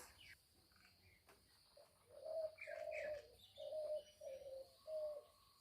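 A dove or pigeon perched on a tree branch coos about five times in a slow, evenly spaced series. The coos are soft and fairly close against quiet, faint background noise.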